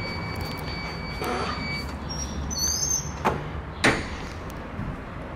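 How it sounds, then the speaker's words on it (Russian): A building entrance door in a 17-storey P-44 apartment block clicks and thuds open twice as people head out, two sharp bangs over a steady hum with a faint creak between them. "Выходим через первую дверь."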